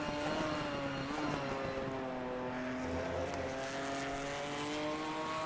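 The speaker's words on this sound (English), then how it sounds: "Honestly, that Ginetta from the outside also sounds pretty nice." A Ginetta GT race car in Assetto Corsa Competizione at Monza, heard from outside, its engine droning at a steady, fairly quiet pitch with slight rises and falls.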